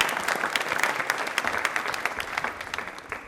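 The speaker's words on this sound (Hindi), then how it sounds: "एक बार वापस इनके लिए तालियां जोरदार वाली हो जाएं।" A studio audience at a televised quiz show breaks into loud, sustained applause, a thick continuous patter of many hands clapping with no voices on top.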